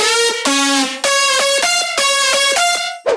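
Processed future house synth lead with effects, a loud buzzy melodic phrase of bright sustained notes flowing together more smoothly, with a tail of reverb at the end.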